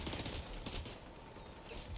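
Small gun fired repeatedly in a competitive shooter video game, a rapid, dense stream of gunfire with no pauses, loud and close.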